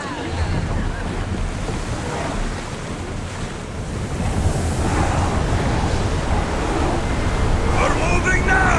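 Ship setting sail across sea waves in the video game Assassin's Creed Odyssey: steady loud surf and wind rush with water washing against the hull, continuous throughout, with voices faintly mixed in.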